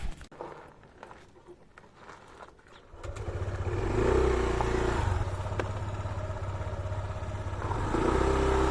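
A motorcycle engine starts after a few seconds of clatter and handling, then settles into a steady idle with the throttle briefly rising near the end.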